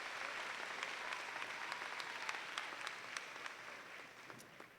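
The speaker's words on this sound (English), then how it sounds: "Please give them a round of applause." Faint, distant audience applause for alumni at a university commencement ceremony, with steady clapping and a few sharper individual claps standing out over the hall's ambience.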